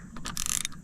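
Fishing reel bait clicker on a night fishing trip, a short burst of quick ratcheting clicks, fairly close and moderately quiet, with no talking.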